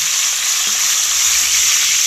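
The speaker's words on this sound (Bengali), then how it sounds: "কপিটা আমি নেড়ে চেড়ে ভেজে নিচ্ছি" Steady loud sizzling of cauliflower frying in hot oil in a wok, a continuous bright hiss with a few faint stirring knocks.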